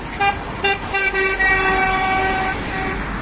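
A bus arrives on a city street and sounds its horn in several short toots, then one longer honk, close and loud over road noise.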